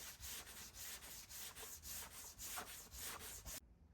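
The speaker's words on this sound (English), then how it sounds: "sand this down" Steady rhythmic strokes of hand sanding across body filler on a car panel, a dry scratchy rasp repeating about twice per second, close and fairly quiet with no talk.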